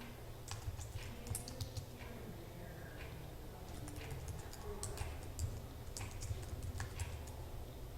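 Fingers typing on a computer keyboard while tabbing through address fields, a quiet run of irregular key clicks and taps continuing steadily and fairly close.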